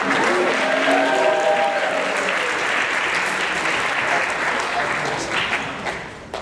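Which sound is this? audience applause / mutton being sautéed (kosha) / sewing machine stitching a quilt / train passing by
audience applause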